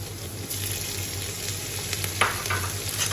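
Steady sizzling and crackling of ginger garlic paste frying in hot oil, close and continuous, with a few sharper pops and a faint low hum underneath.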